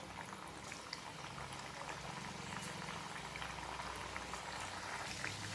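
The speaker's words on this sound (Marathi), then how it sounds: "आता या तळायच्या आहेत. तेल एकदम छान तापलेलं आहे. आता या हळूहळू सोडून द्यायच्या आहेत." Chakli fry in well-heated oil, a constant, faint bubbling sizzle with fine crackles that holds steady throughout, with no voices.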